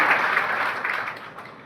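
Audience applause at a REET and 2nd-grade test series event in Jaipur: dense, steady clapping from a sizeable crowd, fairly loud and continuous, easing slightly toward the end.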